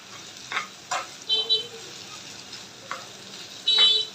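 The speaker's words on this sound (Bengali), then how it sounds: "এখন জিরা ফাঁকি দিব, দিয়ে নাড়াচাড়া দিয়ে নামিয়ে দিব।" Vegetable bhaji of potato, bean and bottle gourd peel with onion and green chilli, stirred in a pan after cumin goes in: scattered scraping stirs and light sizzle, close, with a voice speaking briefly.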